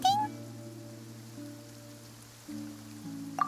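Steady rain falls in Genshin Impact's Fontaine region, a soft, even wash beneath sustained tonal background music, with a couple of brief high chirps at the start and end.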